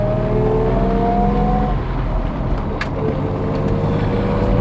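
A 1955 Mercedes-Benz 300SL Gullwing sports car drives along with a steady, close engine hum whose pitch glides slightly as it changes speed, with no voices over it.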